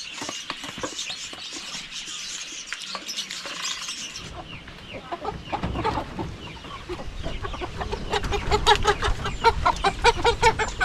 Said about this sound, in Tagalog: So yung mga manok natin na Jersey Giant oh